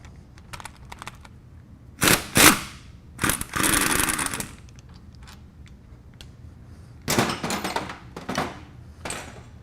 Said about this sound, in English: Now we'll remove the lower bolt.